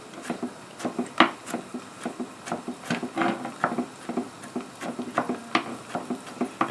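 A knife chops a large garlic clove on a wooden board in a home kitchen, with irregular sharp taps repeating close and clear and no talking.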